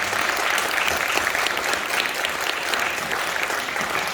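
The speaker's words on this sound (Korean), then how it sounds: "여러분 오늘 뜨거운 박수로 맞아주십시오." Audience applause at a Korean Christian cultural gathering, dense steady clapping from a sizable crowd, loud and continuous throughout, no speech over it.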